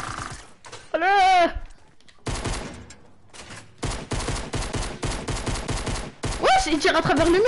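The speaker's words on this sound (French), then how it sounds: "Il tire à travers le mur, ce bâtard." Gunfire in a first-person shooter, with bursts of rapid automatic shots fired through a wall, loud and close, separated by brief pauses. French-speaking players shout and sing over and between the volleys.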